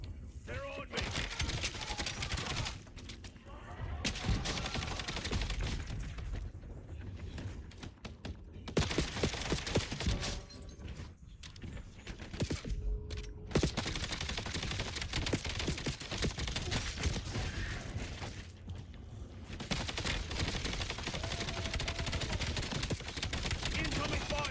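Dense, sustained automatic gunfire rattles almost continuously in Black Ops 7, loud and close with brief pauses, mixed with other game sounds.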